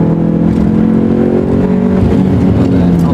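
An MG race car accelerates hard on the Croft circuit, its engine a loud, continuous, close-miked roar with layered harmonics throughout, a voice faintly under it.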